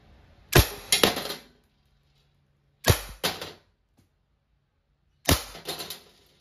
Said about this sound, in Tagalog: Okay, firing. Umarex SA10. Airgun pistol, dual ammo, CO2 powered.